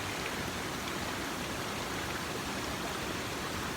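A waterfall pours steadily in nature, its dense rushing hiss of falling water continuous and unbroken, with no voices.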